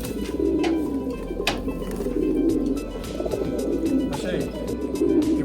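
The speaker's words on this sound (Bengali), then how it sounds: "কবুতরগুলো এই হচ্ছে" Pigeons kept as breeding pairs in a loft, including Bagha and Kallu birds, coo in a steady, low rolling murmur that carries on throughout, close by, with faint voices in the background.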